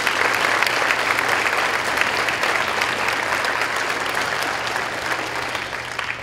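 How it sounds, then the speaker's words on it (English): Audience at a school's 7th and 8th grade holiday concert applauding steadily, a dense, loud wash of clapping that holds for several seconds and only slightly eases toward the end. "please give a round of applause to Mr."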